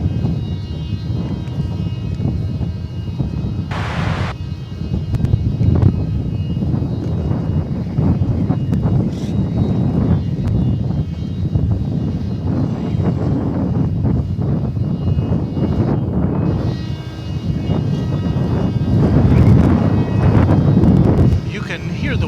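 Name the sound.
wind blowing at night at DFW Airport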